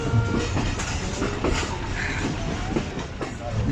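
The 44 DN Shah Hussain Express, a Pakistani passenger train on the Lahore to Karachi route, rolls along the rails with a loud, steady rumble and faint rhythmic wheel clatter, close by and continuous, without speech.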